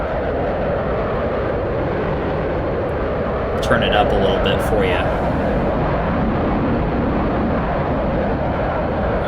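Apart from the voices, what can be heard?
jet afterburner sound in a video game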